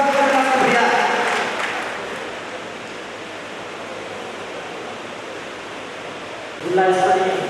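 Audience applause at a district-level education conference of private schools in Bagra, a loud burst of clapping that falls to a softer wash, then swells briefly again at the end.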